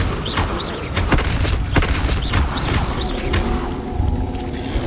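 A Levioso spell is cast in the video game Hogwarts Legacy: a dense whooshing magical burst with crackling impacts over a steady bed of game noise, with a couple of short rising chirps on top.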